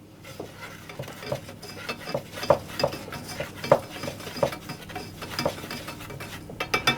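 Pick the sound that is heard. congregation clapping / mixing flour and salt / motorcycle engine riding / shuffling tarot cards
mixing flour and salt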